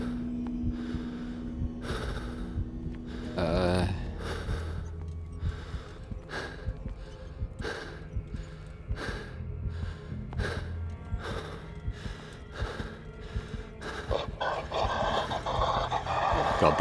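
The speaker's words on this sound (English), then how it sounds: "Breathing very heavily now." Heavy, ragged breathing from a character in the eldritch horror game Call of Cthulhu, repeating in a steady rhythm of gasps and pants over a droning, tense game soundscape.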